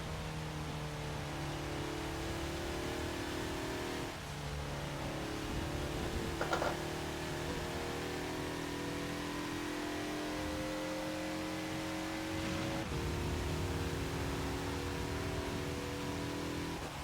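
A 2014 Mazda Lola B12/80 race car at Le Mans in the rain in the Forza video game revs steadily at high pitch throughout, the engine note stepping up with gear changes and wheel spin, with no talk.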